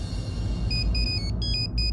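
A mobile phone rings in a Telugu TV serial scene. A faint electronic ringtone of short repeated high beeps begins partway through, over a loud, steady low rumble.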